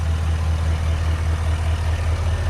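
A Chevrolet Silverado Duramax L5P diesel truck engine rumbles steadily up close, a deep continuous drone with a rushing airy intake hiss on top.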